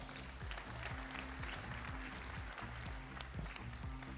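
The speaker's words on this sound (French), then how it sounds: "on continue, on l'applaudit très fort." Applause for a contestant at the 2019 Reine du Muguet pageant election in Compiègne, France: steady clapping from a hall audience throughout, heard over a repeating low musical pattern.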